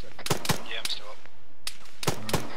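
Gunfire in the video game Arma 3 during a night firefight: several sharp shots crack out in short clusters with pauses between them, against a faint background of voices.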